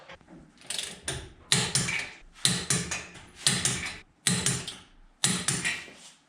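Bolts are torqued on a Chevy Luv truck in six rapid bursts of clicking ratchet or impact-wrench rattle, each about half a second long with short gaps between. The sound is close and moderately loud, with no speech.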